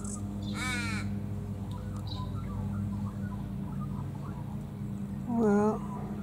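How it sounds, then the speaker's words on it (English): Australian ravens feeding on nectar in a silky oak give two drawn-out, wavering caws, the first near the start and a louder, closer one near the end, over a faint hum and background noise. "So the Australian raven takes nectar."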